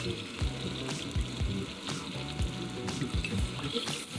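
Crab meat sizzles in hot oil in a wok for ginger and scallion crab, a steady crackling fry with rhythmic scraping or stirring knocks throughout, close and fairly loud.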